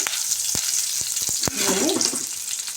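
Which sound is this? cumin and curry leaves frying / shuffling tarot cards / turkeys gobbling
cumin and curry leaves frying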